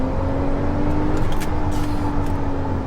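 A Porsche 911 Turbo S engine drones loudly and steadily with a deep rumble, shifting down into second gear midway, with road noise throughout.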